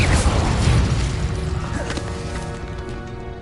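An explosive Confringo spell cast in Hogwarts Legacy bursts with a loud boom, then fades into a rumbling, ringing decay over a few seconds.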